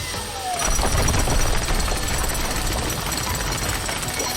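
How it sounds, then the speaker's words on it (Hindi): A drill breaking dried cement in a children's construction truck cartoon, starting after a brief quiet moment and then a loud, continuous rapid hammering rattle that holds steady. "तुम अपनी ड्रिल से सीमेंट को तोड़ दोगे?"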